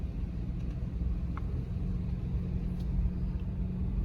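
A truck with a rooftop tent rolls out of a campground, a steady low engine rumble heard from inside the cab with faint road noise and no talk.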